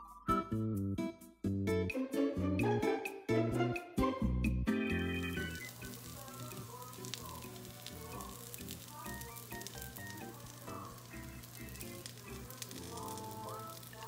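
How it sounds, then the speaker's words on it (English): Keto crab balls frying in a pan, a quiet continuous sizzle that takes over after a loud burst of background music at the start. "Cook the crumbles about 2 minutes each side or until the color is brown"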